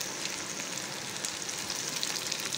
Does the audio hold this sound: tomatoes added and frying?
yes